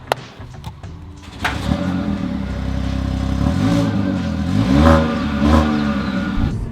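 A small rental car on Madeira starting off and driving away, a door thump at the start, then an engine revving up through rising gear pulls, close and fairly loud, with a few clattering knocks.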